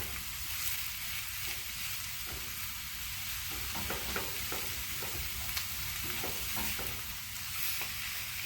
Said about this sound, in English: I love that sound and that smell and the smell of onions and garlic sauteing